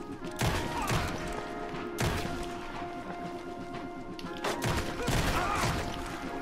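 Gunfire erupts in the video game Red Dead Redemption 2: a few loud, sharp shots are spaced a couple of seconds apart over a rumbling backdrop of game noise and more distant shooting.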